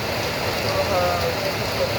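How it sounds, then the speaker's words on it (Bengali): Steady rain falls on a rainy day, a dense even hiss throughout, fairly loud and close. "সুন্দর আল্লাহ রহমতের বৃষ্টি"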